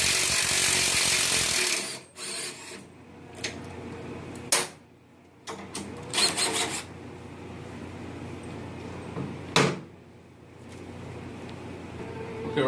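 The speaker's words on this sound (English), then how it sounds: "I'm going to go ahead and take out these two 3/4 bolts" A power tool on a motorcycle rear shock of an air-ride bagger whirs in several short bursts, loosening 3/4 bolts, with pauses and faint mechanical clicks in between, close and fairly loud.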